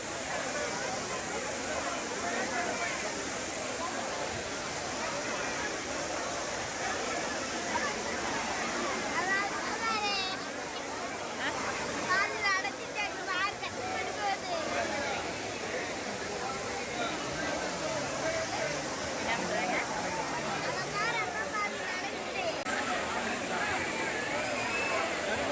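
A waterfall roars in a continuous dense rush of falling water near Tenkasi, loud and unbroken, with people's voices and bathers' chatter faintly mixed in.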